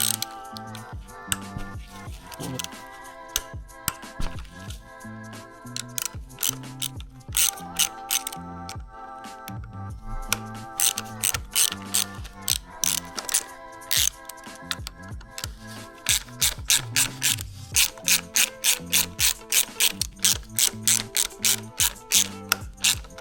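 Ratchet wrench removing 10mm bolts from the clutch cover of a Ducati Hypermotard 698 Mono RVE, with repeated close clicking ratchet strokes in uneven bursts, growing into a fast regular clicking rhythm toward the end.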